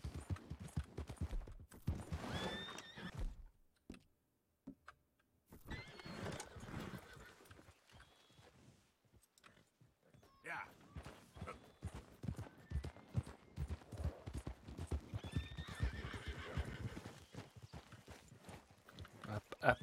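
An Appaloosa horse in Red Dead Redemption 2 gallops with quick rhythmic hoofbeats, broken by short pauses and a few whinnies, while someone talks intermittently over it.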